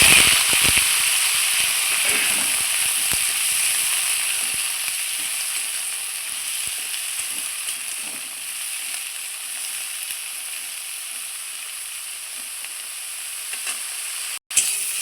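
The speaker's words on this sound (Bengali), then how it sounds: "ওই তেলে আমি কেটে ধুয়ে রাখা বেগুনগুলো ভেজে নিচ্ছি।" Washed, cut eggplant slices frying in oil in a pan, a loud continuous hiss and sizzle that starts crackly and busy, then settles into an even, slowly fading fry, with a sharp break near the end.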